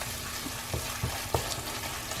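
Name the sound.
stirring sauce with Worcester sauce in a pan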